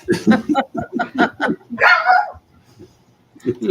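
Barking from the speaker's own pet dogs at home, a few sharp yelps and a short burst of barks in quick succession close by, with people talking around them.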